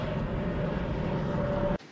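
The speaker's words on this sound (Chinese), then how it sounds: "它时不时的有飞机从那边飞过来" An airplane passes over a pond-side village in Shuangliu after afternoon rain, a steady, moderately distant engine drone with a faint tonal hum that cuts off abruptly.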